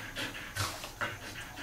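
A nursing mother dog pants rhythmically at close range near her two-week-old puppies, with quick, breathy huffs repeating steadily and no talking.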